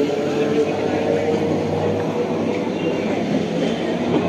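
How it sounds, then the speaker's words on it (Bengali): A down Shantipur–Sealdah galloping local train running past at Belgharia station, a loud continuous roar and rumble of wheels and carriages through the whole span, near and steady. "এটা হচ্ছে down Shantipur Sealdah galloping local"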